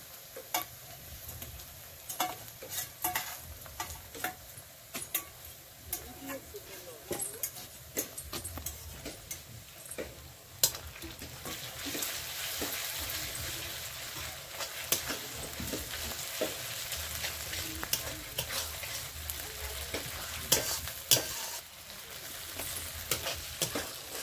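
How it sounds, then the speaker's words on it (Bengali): Fried onions sizzle in a pan as cumin, ginger, garlic and chilli paste go in: a steady low frying crackle with scattered stirring scrapes and clicks of a spoon, close and continuous, no speech. "পেঁয়াজটা ভাজা হয়ে গেছে এখন আমি মশলাটা দিয়ে দেবো"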